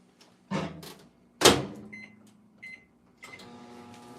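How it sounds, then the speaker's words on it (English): Microwave oven heating frozen cranberry juice in a loosely capped container: a door thump, a louder door slam, then a few short beeps and the steady hum of the oven starting, with no talking. "Open cap, loosely microwave for 60 seconds. Let's do 30 seconds."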